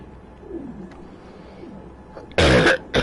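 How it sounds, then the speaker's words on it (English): A single sharp, loud cough bursts out close to the microphone, followed by a short second catch of breath, after a stretch of quiet background with faint cooing bird sounds from a game's nature area. "Excuse the cough."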